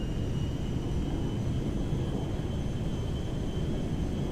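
An Air Force One jet in GTA 5 at full power on the runway, starting its takeoff roll: a steady, loud roar of jet engines that holds constant throughout with no talk.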